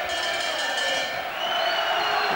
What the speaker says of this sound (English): this is some crowd here singing already, tops of their voices